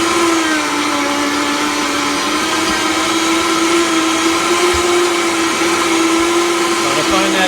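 A Vitamix blender whirs loudly and steadily through coffee ice cream, a constant high motor drone with a grinding texture that never lets up.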